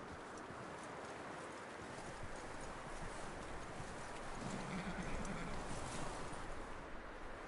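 Horse hooves clop steadily on the ground in Red Dead Redemption 2, a continuous rhythmic patter set in a dense wash of outdoor game ambience, with no talking.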